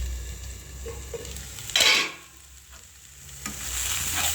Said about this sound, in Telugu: ఆలుగడ్డ ఉట్టిగానే ఉడికిపోతాయండి, ఫ్రై అయిపోతాయి బాగా టేస్ట్గా